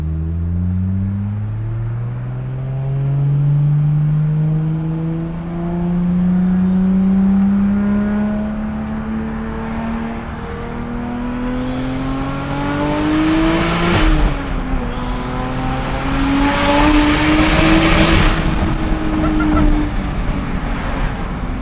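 A Toyota Supra's turbocharged engine, running on about 18 psi of boost, drones steadily as its pitch climbs, then is revved hard twice in quick rising sweeps before settling back, loud and close.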